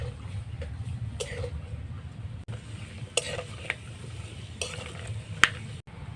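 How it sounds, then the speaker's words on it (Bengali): Dried fruits and nuts are lightly fried in a pan for a vermicelli barfi sweet, giving a soft sizzle under a low hum, with a spatula scraping and stirring in sharp intermittent clicks. "এগুলোকেও আমি একটু হালকা করে ভেজে নেব।"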